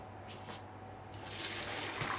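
Boiling water being poured off cooked carp bait from a pan, a faint gushing splash that swells into a steady pour over about two seconds.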